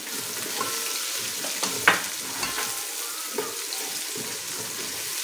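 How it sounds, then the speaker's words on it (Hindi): Roughly chopped onion fries with ginger and garlic in a pan, a steady sizzle broken by scraping stirs and occasional clinks, close and moderately loud with no talking. "प्याज को इतना कुक करना है कि बस ये सॉफ्ट हो जाए, कलर चेंज हो जाए"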